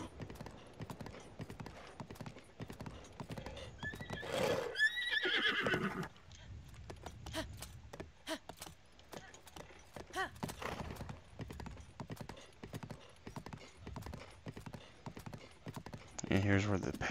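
Horse hooves clip-clop steadily in a Zelda video game, with a neigh and whinny rising midway, under ongoing talk.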